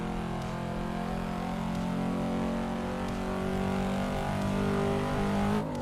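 A race car engine in the Assetto Corsa racing game on PC, driven on the Shuto Expressway, drones and revs continuously with layered harmonic tones, loud and steady throughout.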